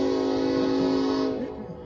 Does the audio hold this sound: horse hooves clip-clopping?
no